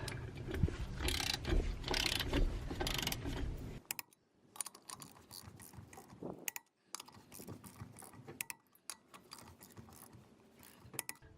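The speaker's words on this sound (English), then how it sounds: "And then grab my torque wrench." Torque wrench tightening the lug nuts on new wheels of a 6x10 cargo trailer: close, crisp ratcheting clicks in short bursts with brief pauses, following a louder stretch of handling noise, and no talking.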